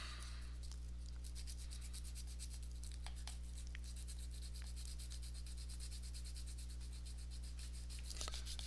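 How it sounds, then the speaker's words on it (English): A small piece of very fine sandpaper rubbing back and forth on a plastic part of a model military attack boat, a quiet steady scratchy rasp with faint repeated strokes close to the microphone throughout. "a small piece of very fine sandpaper."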